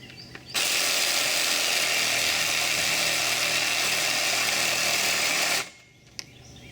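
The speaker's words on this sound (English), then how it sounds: "now I'm going to get the Sawzall and I'm going to bob these bolts off." A Sawzall reciprocating saw cuts off bolts in one loud, continuous buzzing burst of about five seconds, close by, starting and stopping abruptly.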